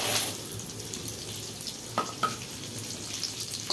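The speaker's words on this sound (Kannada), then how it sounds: "ಗೋಡಂಬಿ ಚೆನ್ನಾಗಿ ಫ್ರೈ ಮಾಡ್ಕೋಬೇಕು" Cashews and raisins frying in ghee in a pan for jaggery payasa, a soft, steady sizzle with a couple of brief clinks partway through, heard close with no voices.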